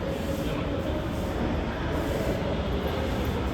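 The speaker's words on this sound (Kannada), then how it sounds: "ನಾನು ಇವಾಗ ಮೆಟ್ರೋ ಸ್ಟೇಷನಲ್ಲಿದ್ದೀವಿ." Inside a metro station, a train produces a dense, continuous rumbling roar that fills the space at a steady loudness, with faint voices mixed into the background.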